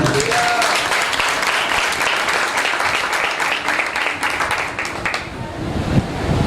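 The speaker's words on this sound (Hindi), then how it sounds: "जोरदार तालियां।" A church congregation at a Friday healing meeting applauds loudly, a dense, roaring wash of clapping that holds steady for several seconds, then fades out with a few scattered claps.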